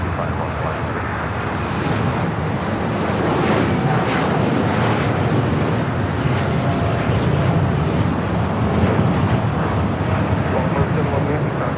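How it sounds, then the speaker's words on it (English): A Norse Atlantic Boeing 787-9 Dreamliner rolls for takeoff at Los Angeles airport, bound for London Gatwick. A steady, loud jet roar holds for the whole stretch, with a voice faintly heard beneath it. "the 787-9 and Dreamliner heading back to London Gatwick, rolling down to 5"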